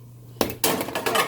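A metal pot lid clatters against a pan in a home kitchen, with several sharp clanks and rattles in quick succession after a brief quiet start, close by, with no talking.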